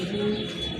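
A pair of Andalusian-coloured pigeons coos softly and steadily in a loft, a low continuous murmur with faint bird chatter and no talk over it.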